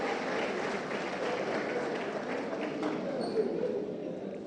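Audience at a civil society coalition press event on a voters register controversy applauding, a steady dense wash of clapping from many hands that holds evenly throughout.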